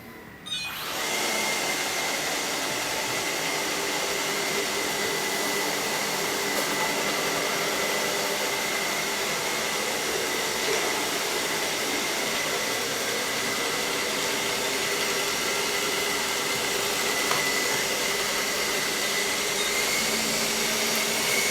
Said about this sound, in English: how well this robot will clean these spots